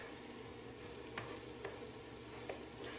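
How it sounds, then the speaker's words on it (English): Chopped garlic sizzles in a hot pan while cooking a Mexican snapper Veracruzana, a constant frying hiss broken by a few sharp clicks of a utensil stirring. "let's add the garlic. Chopped garlic. Cook it for another 30 seconds"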